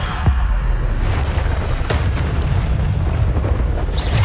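Loud, dense booming blasts of the Bombarda explosion spell in Hogwarts Legacy, a continuous roar of rumbling low-end detonations with a few sharper bursts layered over it throughout.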